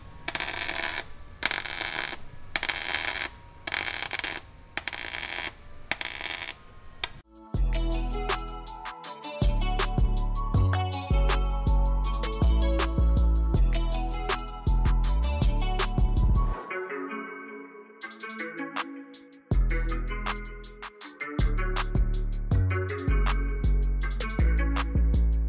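Pulse welder laying beads on the floor pan of an Evo wagon, a rapid crackling, buzzing pulse in repeated bursts separated by short pauses, close and fairly loud with no talking.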